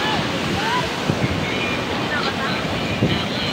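Ragatan Falls in Maragondon, Cavite pours in a constant broadband rush of water, loud and close, with wind buffeting the microphone and faint voices in the background.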